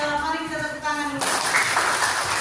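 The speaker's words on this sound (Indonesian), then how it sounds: "Mari kita tepuk tangan dulu" A class breaks into applause, a dense burst of many hands clapping together after someone speaking briefly.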